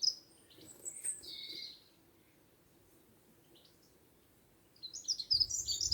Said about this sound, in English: And I'm just going to let the sound of the birdsong